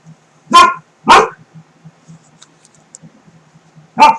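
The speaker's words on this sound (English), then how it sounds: "She hardly ever barks, but here lately," A dog barks three times, sharp and close, in a quiet room: two quick barks, a pause, then one more.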